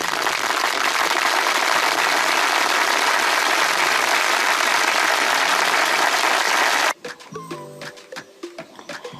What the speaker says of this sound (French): j'applaudis très fort tous les formateurs qui ont œuvré à la réussite de cette formation.